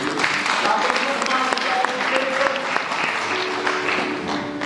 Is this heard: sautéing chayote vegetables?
no